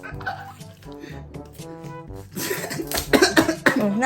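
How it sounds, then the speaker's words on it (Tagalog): Several sharp coughs burst out in quick succession near the end, loud and close, after a stretch of music-like tones. "Naubo-ubo pa"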